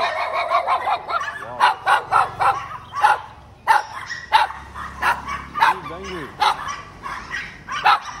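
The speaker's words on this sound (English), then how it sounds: "Different dogs." Dogs bark repeatedly in a steady rhythm in Siem Reap, Cambodia, with honking birds mixed in and a voice talking underneath.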